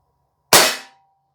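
A single sharp pop from an ASG 1911 US-C CO2 blowback BB pistol fired at a target outdoors, one close, loud shot with a short decaying tail, no talking.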